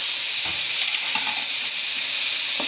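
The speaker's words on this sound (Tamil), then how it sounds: "இப்போ தக்காளி போட்டுக்கலாம்" Tomatoes sizzle steadily in hot oil with ginger in a pan, a loud continuous hiss with a few faint clinks of stirring.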